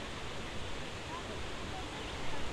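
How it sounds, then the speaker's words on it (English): Steady broadband rush of a creek flowing below a trail, a continuous even wash of water noise that swells slightly near the end, with no other sound standing out. "There's a creek down here."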